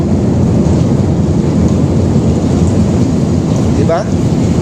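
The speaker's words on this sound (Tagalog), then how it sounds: "Ang lakas ng ulan natin." Heavy rain pours over the flooding Pasig River in a dense, loud, constant roar, with a brief rising whistle-like sound near the end and no clear speech.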